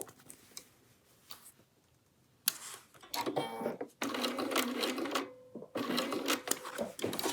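A home sewing machine stitches binding onto the center front and neckline of a quilted Tamarack jacket. After a quiet start with a few soft ticks, it runs in three loud, steady whirring bursts separated by short pauses while the fabric is pivoted at the corners.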